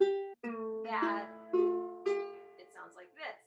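A new, out-of-tune ukulele is strummed and plucked in a few uneven bursts. The notes sound slightly sour and ring close and moderately loud, with short gaps between strokes.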